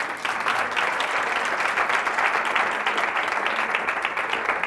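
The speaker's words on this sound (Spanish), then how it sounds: "¡Un aplauso!" An audience at a business talk breaks into sustained applause, dense and fairly loud, the clapping rolling on evenly for the whole stretch without anyone speaking.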